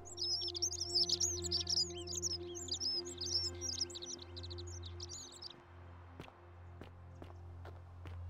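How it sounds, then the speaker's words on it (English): Birds chirp in the video game Ghostwire: Tokyo, a busy flurry of quick high tweets over a steady low ambient hum, fading after a few seconds while sparse clicks and taps follow. "Oh, I hear a bird, but I don't see a bird."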